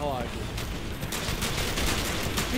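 Rapid gunfire in Call of Duty during a flag-capture match in Rio's Rocinha favela, a steady crackle of automatic shots with a few sharper bursts, mixed under other game noise.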